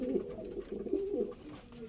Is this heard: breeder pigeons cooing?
yes